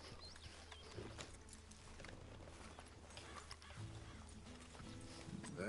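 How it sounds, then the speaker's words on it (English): Horse hooves clip-clopping as a rider sets off in Red Dead Redemption 2, a steady, quiet trot under low ambient game sounds, with a brief whinny-like sound near the end. "let's get on the horse and ride."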